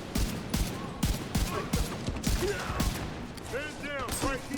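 Rapid bursts of video-game gunfire crack over and over in a dense, loud fusillade, overlapping a voice talking through the fight.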